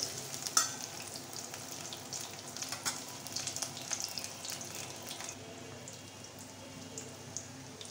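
Chopped onion frying in a pan with a steady soft crackle and irregular pops and spatters, close but fairly quiet, easing slightly toward the end, with no talking.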